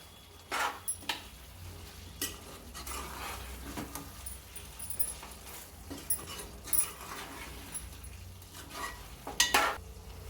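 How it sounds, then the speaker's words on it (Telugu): Chicken curry with coriander gets stirred in a pot, with soft intermittent scraping and clinks of a spoon against the vessel over a faint low background. "కొంచెం కొత్తిమీర వేసుకుని బాగా కలపాలండి రెండు నిమిషాలు అలా ఉడకనివ్వాలి"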